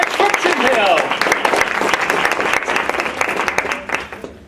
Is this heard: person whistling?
no